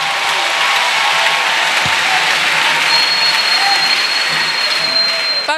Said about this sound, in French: Offrant d'acclamation à Jésus-Christ.